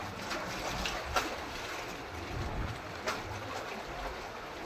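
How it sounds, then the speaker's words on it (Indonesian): Waves rolling in on the sea shore as the tide rises in the late afternoon, a steady broad wash with wind-like hiss and two brief swells of louder surf, no talking. "air laut mulai pelan-pelan agak pasang dan disertai dengan datangnya ombak"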